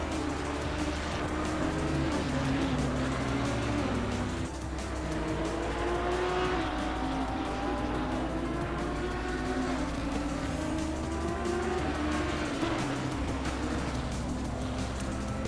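An Audi GT race car in a sim racing game pushes through a flying lap at Valencia, its engine climbing and dropping through the gears in continuous sweeping pitch changes, with a brief tire squeal and no voices over it.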